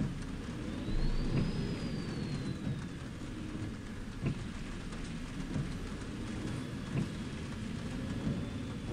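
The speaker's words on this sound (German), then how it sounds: "Dort muss man jetzt halt feststellen, dass es regnet." Rain and thunder in the OMSI 2 bus simulator game, a steady hiss of rain with low rumbling thunder rolls and a few sharp thumps, heard inside the bus over a faint engine hum.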